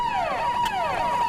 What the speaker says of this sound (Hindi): हाँ शायद ये पुलिस की आवाज़ है।